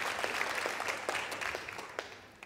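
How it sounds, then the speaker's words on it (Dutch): Studio audience on a Dutch television stage show giving a round of applause, a soft, thinning spatter of clapping that fades gradually over a couple of seconds. "Nogmaals een applaus."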